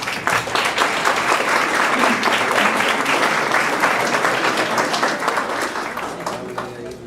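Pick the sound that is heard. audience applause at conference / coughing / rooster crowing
audience applause at conference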